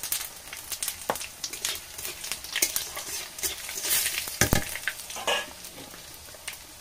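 Bay leaf and five-spice frying in mustard oil in a wok for a Sundarbans crab dish, a constant crackling sizzle with frequent sharp stirring scrapes, close and without talk.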